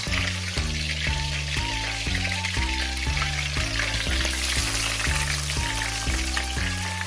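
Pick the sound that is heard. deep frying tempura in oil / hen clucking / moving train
deep frying tempura in oil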